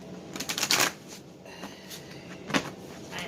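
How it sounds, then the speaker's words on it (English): Tarot cards being shuffled at a reading, a burst of crisp riffling early on followed by a few lighter, scattered flicks and shuffles, close and fairly quiet with no talking. "Fine, I'll just shuffle once."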